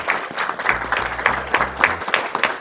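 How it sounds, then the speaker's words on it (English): A crowd at a live speedrunning event for Donkey Kong Country claps in a short burst of steady applause, moderately loud and continuous. "Also, that deserves a clap."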